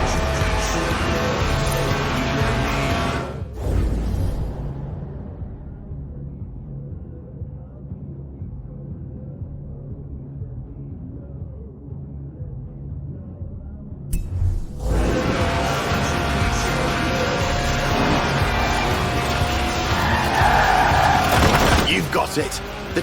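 In Forza Horizon 4, a lightweight race car with a high-revving 1.8-litre 190-horsepower engine drifts with sustained tire squeal and engine roar, cutting to near silence mid-clip before resuming loudly; someone talks over parts of it.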